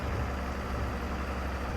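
Steady low tractor engine idle in Farming Simulator 22, a continuous close rumble with no voices over it.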